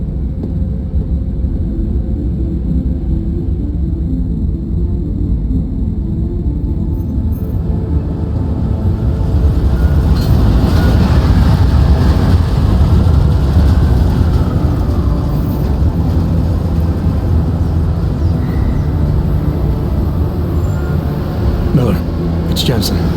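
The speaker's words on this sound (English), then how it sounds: "Just getting off the train now." A train in Deus Ex Mankind Divided rolls into a station with a steady, heavy low rumble that swells midway, while a station announcement and brief radio talk come over the top.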